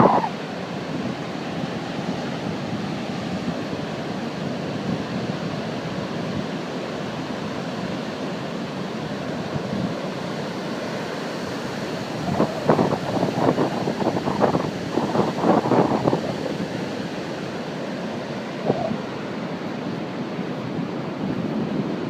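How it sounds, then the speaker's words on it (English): Big ocean waves breaking at Ocean Beach, San Francisco, a continuous wash of surf with wind noise on the microphone, steady throughout and with brief louder bursts near the middle. "Yeah, big waves."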